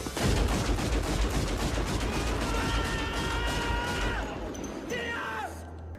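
Dense, rapid gunfire rattles continuously in the Mass Effect video game, loud and layered with booming impacts, then thins out as whining tones and a softer rumble take over near the end.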